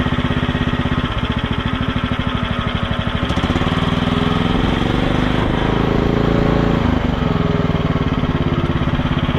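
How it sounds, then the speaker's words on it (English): A MACHPRO mini skid steer's small engine, electric-started, idles loudly and steadily close by with a rapid, even chugging throb that holds through the whole stretch. "it's got an electric start, and it fires right up"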